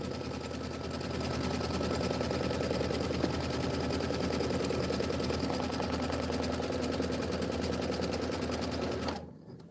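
An embroidery sewing machine stitches through quilt batting with a fast, even mechanical chatter that runs steadily for several seconds, then stops abruptly near the end.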